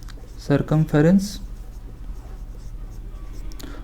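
A pen scratches across a board during a maths lesson on circle areas, producing faint, soft strokes that follow a brief spoken voice at the start.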